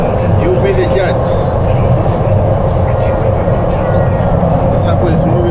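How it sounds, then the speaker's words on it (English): Loud, continuous rumble and roar of a fast-moving subway train in China at night, with rattling and a steady mechanical hum throughout. "The subway is moving so fast"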